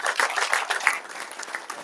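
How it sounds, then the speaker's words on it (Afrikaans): Applause from an audience at a livestock auction, a steady patter of many hands clapping close by, short and continuous without any voices. "Kom ons gee hulle lekker aan die klap"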